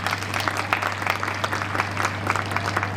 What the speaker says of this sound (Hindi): विद्यालय के नन्हे मुन्ने बच्चों के लिए एक बार जोरदार तालियां हो जाए